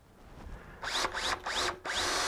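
Power drill boring during a between-centres woodturning demonstration: four short, close bursts of whirring that rise in pitch as the motor spins up, separated by brief pauses.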